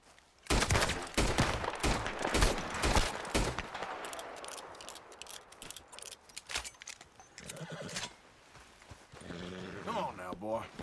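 Horse galloping in Red Dead Redemption 2, loud rapid hoofbeats mixed with gunfire and a whinny, followed by quieter riding and a voice near the end.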